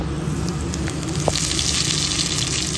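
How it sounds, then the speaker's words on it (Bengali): Drumstick leaves on their stems, coated in gram flour batter, fry in hot mustard oil with a steady, loud sizzle and crackle and a single brief pop partway through. "সজনে শাকটা কয়েকটা ডাঁটি এই সমেত পাতা সমেত নিয়ে ভালো করে বেসনে ডুবিয়ে গরম সর্ষের তেলের মধ্যে ছেড়ে দেব।"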